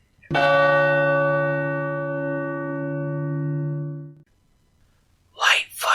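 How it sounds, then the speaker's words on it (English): A single deep, hollow church-style bell strikes once, loud and close, its dull tone ringing on for about four seconds before cutting off, followed by a brief breathy sound. "He spoke before the hour bell sounded, which it now did, with a deep, dull, hollow, melancholy"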